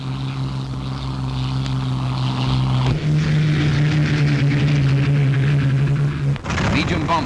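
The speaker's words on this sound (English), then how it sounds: "Mustangs flown by the Poles who'd fought in the Battle of Britain." A WWII Mustang propeller aircraft flying, a steady loud droning engine hum that shifts pitch partway through as the plane passes, with someone narrating over it.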